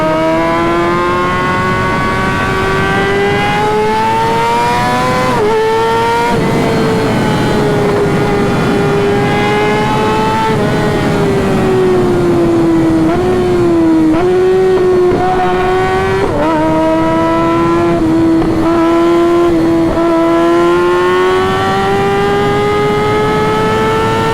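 A Kawasaki ZX-6R motorcycle runs at full throttle, its high-pitched inline-four engine screaming loudly and close, rising through revs with brief dips at gear changes over a steady rush of wind.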